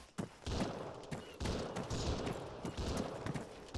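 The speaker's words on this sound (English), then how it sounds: "There's two different weapons firing. There's a third weapon firing." Several weapons fire at once in a battle royale video game, overlapping bursts of shots crackling densely and continuously, loud and close, with no voices over them.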